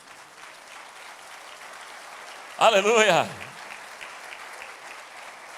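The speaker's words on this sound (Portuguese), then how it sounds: "Vamos aplaudir o amor de Deus." Steady applause from a church audience runs throughout at moderate distance, with a single voice calling out briefly over the clapping midway.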